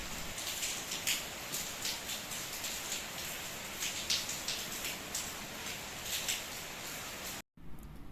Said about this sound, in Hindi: दिन की शुरुआत हुई थी बारिश के साथ।